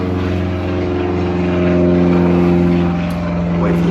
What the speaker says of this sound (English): Wait for this plane to go by.